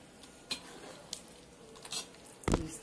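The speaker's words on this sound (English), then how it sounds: "You stir it." Ogbono soup stirred in a pot, a few faint scraping and clinking strokes spaced apart in a quiet room, with a louder scrape near the end.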